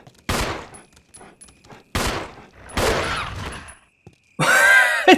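Three loud gunshots from Resident Evil HD Remaster, each a sharp broadband crack with a ringing tail, spaced about a second and a half apart, followed by a harsh burst of a creature's growl or shriek.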